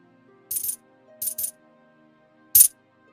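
Three short metallic jingles of silver coins dropping, the middle one a quick double, each bright and close against near silence.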